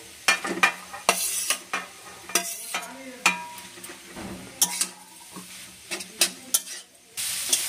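Cauliflower cutlet filling with grated potato frying in a pan, a soft sizzle broken by repeated sharp scrapes and clinks of a spoon stirring against the metal, close and irregular.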